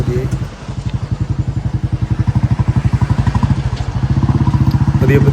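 Motorcycle riding slowly along a busy mountain road near Darjeeling, its engine putting out a close, rapid, even thumping pulse that holds steady throughout.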